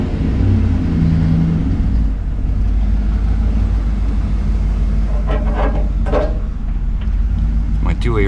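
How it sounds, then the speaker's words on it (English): A John Deere X724 lawn tractor's engine rumbles steadily at close range while it pulls into a garage, with a brief rise in engine revving partway through; a person talks over it. "Pull the truck in here"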